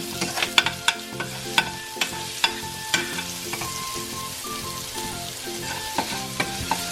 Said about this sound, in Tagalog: nagigisa na natin ang ating ampalaya